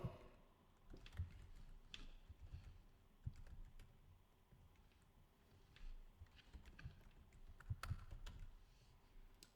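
Someone types a terminal command on a computer keyboard for an Ubuntu virtual machine, producing faint, irregular key clicks in bursts, close but quiet.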